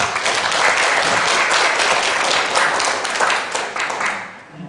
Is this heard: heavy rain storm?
no